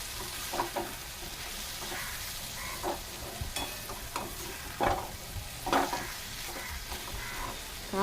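Eggplant frying in a pan while being stirred, a steady sizzle broken by repeated scraping strokes of a spoon, close and alone with no talking.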